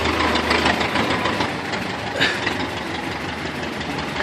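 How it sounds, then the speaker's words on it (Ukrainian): A stuck tractor's engine runs steadily with a low, rough rumble and knocking texture, fairly loud and continuous throughout, with no talk over it. "Так застряг трактор, що навіть не можуть"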